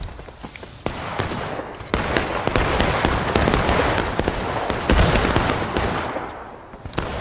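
Rifles fire independently at a Civil War-style reenactment of the Bloody Lane battle, a dense, continuous crackle of overlapping shots, loud and close, with bursts rising and falling over several seconds.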